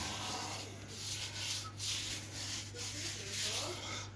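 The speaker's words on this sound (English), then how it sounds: "Throw flour all over the top. And we rub it in." Hands rub flour into the top of a risen white bloomer loaf before baking, giving soft, close brushing and scuffing strokes in a gentle repeating rhythm over a low background hum.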